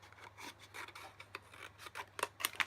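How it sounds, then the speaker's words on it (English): Quiet, uneven rasping and snipping of scissors working through a thin acetate sheet, a few sharper snips near the end, no voices. "So I'm going to grab my scissors"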